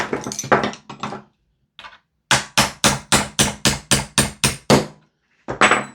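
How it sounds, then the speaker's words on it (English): Repeated sharp metallic taps knock out the rear pin of a GHK G5 hybrid airsoft rifle, about ten evenly spaced close hits in a quick steady rhythm after a few scattered ones. "We're going to pop this rear pin out."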